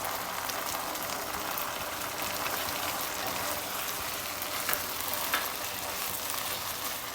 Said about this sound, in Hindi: इसको हम थोड़ा सा सौते करेंगे।